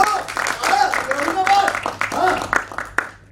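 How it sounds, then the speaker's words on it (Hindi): Clapping from a stage-show audience, scattered hand claps and light applause under someone talking loudly to the crowd, with some voices and shouts mixed in. "अरे ताली बजा दो।"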